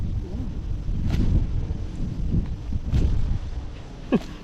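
Wind buffets the microphone with a low, steady rumble that swells and fades, while faint voices and small knocks come through now and then.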